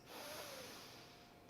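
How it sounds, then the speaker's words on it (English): A slow, soft inhalation through the nose during a calm yoga practice, a single faint, airy intake close to the microphone with no talking. "So we'll breathe in through the nose,"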